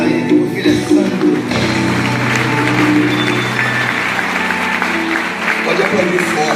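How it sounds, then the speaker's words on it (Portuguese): A church congregation applauds during a service, a dense wash of clapping with a voice speaking over it and a low musical drone underneath. "Aplauda Ele, porque Ele é santo."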